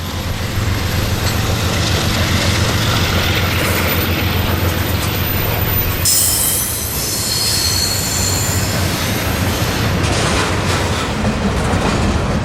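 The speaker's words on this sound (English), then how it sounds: "Suddenly, on the number 2 track, another northbound. This time an intermodal, with one of the NS Heritage units in the lead" A northbound Norfolk Southern intermodal freight train led by an NS Heritage locomotive rolls past on the number 2 track, with a steady loud rumble of wagons, wheel squeal and clatter, brightening midway as the cars pass close by.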